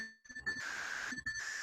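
A loud, steady electronic tone from a phone left on in an art classroom, holding as one sustained pitch for most of the moment with brief dips, while faint classroom noise murmurs underneath.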